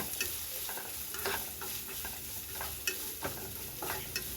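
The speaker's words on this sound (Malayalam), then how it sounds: "ഒരു ആറേഴല്ലി വെളുത്തുള്ളി ഒരു ചെറിയ കഷ്ണം ഇഞ്ചി ഇത് ഇത്രയും കൂടെ ഒന്ന് വഴറ്റിയെടുക്കണം നമുക്ക്" Onion, garlic and ginger sauté in a pan for a paneer masala, a soft steady sizzle broken by repeated scraping stirs of a spoon against the pan, close and alone without talk.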